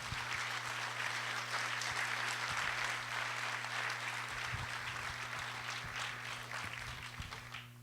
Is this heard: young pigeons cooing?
no